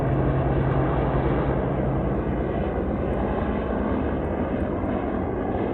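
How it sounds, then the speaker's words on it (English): A helicopter flies in a glen on the Isle of Skye, giving a loud, steady, broadband engine roar that holds evenly throughout, with no voices. "There's a helicopter down there."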